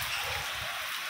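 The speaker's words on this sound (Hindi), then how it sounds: "ये देखो बारिश के मज़े लेने भैया" Steady rain falls in a broadband hiss, continuous and fairly close, during a rainy outing at a home with a newly built gym room; no one speaks.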